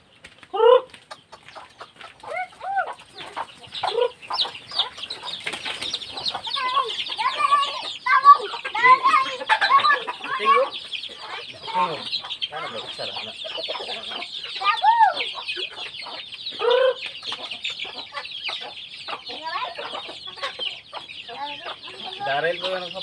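Pet chickens being fed banana cluck and chatter steadily and close by, many overlapping calls with an occasional crow, and a few faint voices underneath.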